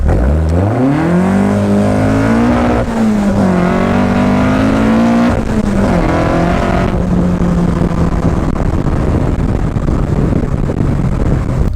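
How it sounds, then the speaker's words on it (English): A GBS Zero sports car engine roars loudly as it accelerates hard with wheel spin, pitch climbing to the limiter in second, then drops into a steady high drone with road noise. "Lots of wheel spin, hit the limiter in second"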